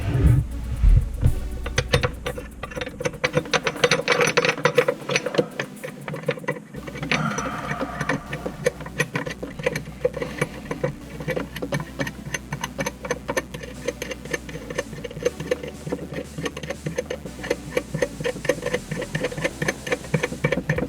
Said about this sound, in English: I gotta undo this whole nut.